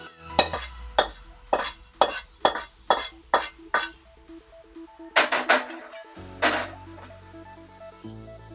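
Whole spices dry-roasting in a pan for homemade masala powder, with a metal spoon stirring and scraping in a steady series of clinks and knocks, close by, ending with a few quicker scrapes.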